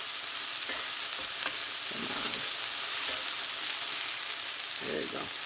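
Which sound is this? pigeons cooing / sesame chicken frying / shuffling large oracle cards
sesame chicken frying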